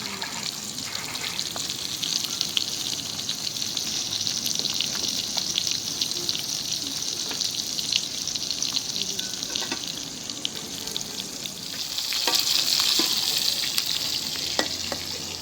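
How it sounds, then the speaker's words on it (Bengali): Native koi fish fry in a pan with a steady close sizzle and crackle that swells louder near the end, no voices. "মাছ ভাজা হয়ে গেছে, উঠাইনি"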